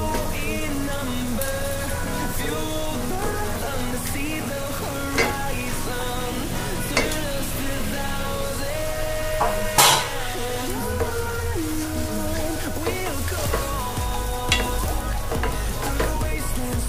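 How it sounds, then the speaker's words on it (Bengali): Papaya and spice paste fry in a pan with a steady, dense sizzle and occasional stirring scrapes, running continuously under tonal background sound for the whole stretch. "খুব ভালো করে মশলাটা কষিয়ে নিচ্ছি। এখন দিয়ে দিচ্ছি পেঁপে।"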